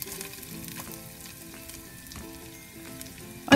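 Coconut fries in ghee in a pan with a dense, close crackling sizzle and a few faint stirring knocks, ending in a sudden loud burst; no talking.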